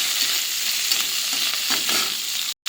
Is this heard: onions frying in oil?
yes